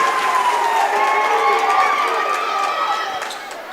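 Loud basketball crowd cheering and roaring in an armory gym at a Buffs vs Warriors game, a sustained wash of voices that slowly fades, with a commentator talking over it.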